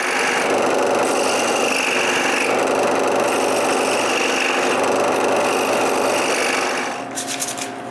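A scroll saw buzzes steadily and rapidly through wood, a constant rasping hum that stops near the end, followed by light clattering.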